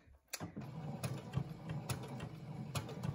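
Sewing machine running a steady quarter-inch stitch along the edges of a fabric face mask, a continuous mechanical whir with regular clicking ticks throughout, moderately close and without talk.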